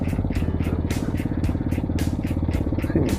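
A Hawk 250 motorcycle engine idles close by, a steady rapid low thumping with regular pulsing exhaust beats throughout, no talk over it.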